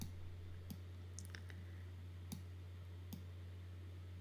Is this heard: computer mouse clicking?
yes